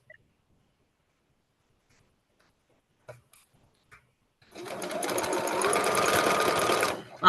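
A home sewing machine stitching quilt pieces in a continuous web, starting after a few quiet seconds of faint clicks and then running as a fast, steady whirring rattle, close up, before stopping abruptly.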